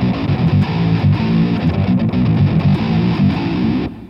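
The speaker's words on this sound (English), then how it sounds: "it almost sounds like this is going to sound kind of like a distorted bass effect" Guitar through a Morpheus Droptune pedal on its octave-down setting, giving a thick distorted bass-like riff, continuous and loud up close before cutting off.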